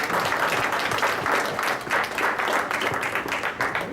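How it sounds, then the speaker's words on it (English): A room of people at a school board of education meeting breaks into steady applause, dense overlapping claps sustained evenly throughout at moderate loudness, with no talking on top. "Round of applause."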